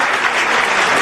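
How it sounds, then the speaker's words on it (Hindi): Young audience of civil-service aspirants at a talk in Meerut applauds, a dense, loud wash of many hands clapping at once, steady through the whole moment. "मैं चाहता हूं एक बार युवा साथी अपने लिए एक बार तालियां बजाएं।"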